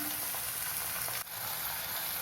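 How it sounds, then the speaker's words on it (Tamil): Chopped tomato sautés in a pan for ridge gourd dal, giving a steady, even sizzle throughout with one brief dip midway. "ஒரு தக்காளி அரிஞ்சு வச்சுருக்கேன் அதையும் சேர்த்துக்கலாம் ஒரு நிமிஷம் வதங்கட்டும்"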